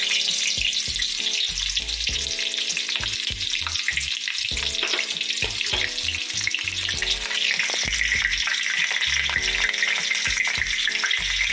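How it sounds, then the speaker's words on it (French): Chopped onions tip into hot palm oil in a cooking pot and fry with a loud, steady, close crackling sizzle that continues without letup. "L'huile chauffe, elle est déjà chaude, on va verser les oignons découpés."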